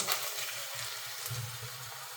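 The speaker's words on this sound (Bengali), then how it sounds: "এবার এটাকে হালকা করে একটু কষিয়ে নিতে হবে মশলা" Spice paste for palak paneer fries in a pan with a dense, continuous sizzle and soft stirring pulses up close.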